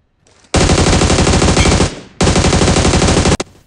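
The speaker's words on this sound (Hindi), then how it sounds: "अभी सामने से कोई बराबर गोलियां चला रहा होता है" Two long bursts of rapid automatic gunfire in the game BGMI, loud and close, separated by a brief pause, with a short final shot after.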